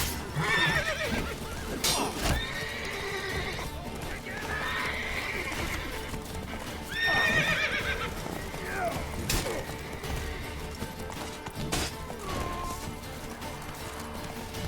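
Horse in a video game whinnying several times amid clip-clopping hooves and scattered crashes, with shouted voices from the game audible underneath.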